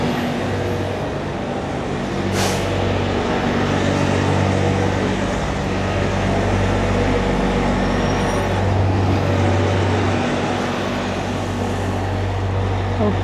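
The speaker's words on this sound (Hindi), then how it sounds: "उस ट्रक का काफ़ी ज़्यादा नॉइज़ आ रहा है, इसलिए मैं बात नहीं कर सका" Loud, steady street traffic on a Toronto avenue in deep winter cold, with a truck's heavy engine rumble dominating a continuous roar of passing vehicles and no talk.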